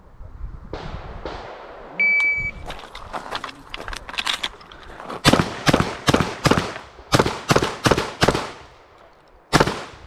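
Shotgun blasts at a shooting championship, a rapid series of loud, sharp reports close by, some in quick pairs, with echoing tails and faint commands between strings.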